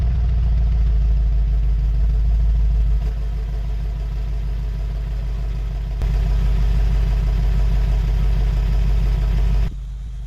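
A Mercedes-Benz G63 AMG with turbos idles after a cold start as it warms up, giving a steady, deep, throaty rumble that runs unbroken for about ten seconds. The level steps slightly a few times and dips near the end.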